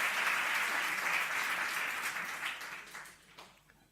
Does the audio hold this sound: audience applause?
yes